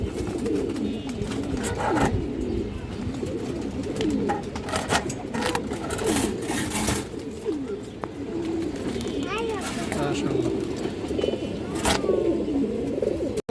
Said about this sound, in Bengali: মাসাল্লাহ খুবই সুন্দর মাদি কৌতর আছে এই যে কৌতর আপনারাই দেখেন